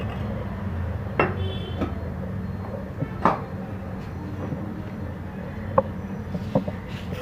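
A ladle stirring milk mixed with powdered milk in a pot, producing sporadic metallic clinks and taps against the pot over a low, steady background.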